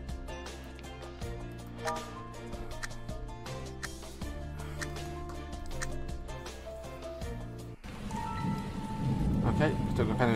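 Heavy rain and rolling thunder from a video game storm, a steady downpour that swells louder near the end over a layer of game music, with no voices.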